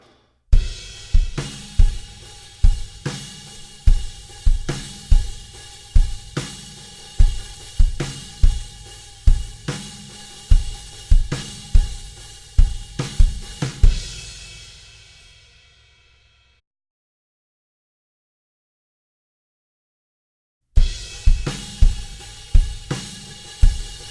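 Drum kit groove for a song, a steady kick, snare and cymbal pattern played loud and close for about fourteen seconds, ringing out into silence before the beat starts again.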